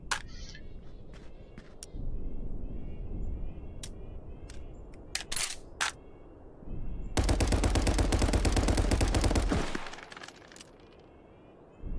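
Full-auto rifle fire in the VR shooter Contractors VR at a firing range: a few spaced single shots, then a sustained rapid burst at a fairly slow rate of fire, loud and close with no talk.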